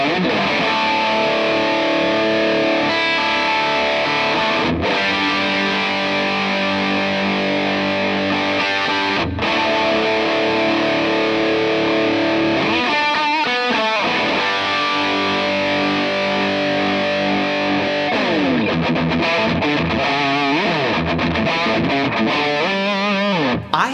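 Heavily distorted electric guitar played through a custom amp built in three sections with EL34 power tubes, loud and continuous, with sustained chords, chugging riffs and a few short breaks.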